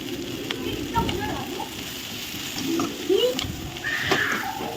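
Crackling sizzle of onions frying in a pan with a little salt added, for an egg masala curry, with occasional pops and spatters, while a person talks over it.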